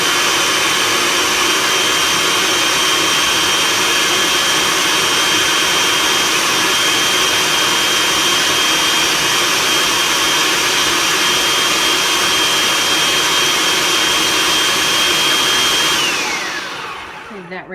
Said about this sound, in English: Secure it in place and continue to chop.